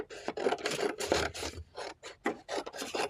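Scissors cutting through a craft foam shape, giving repeated rasping, rubbing snips in a steady rhythm, close and fairly loud with no talking.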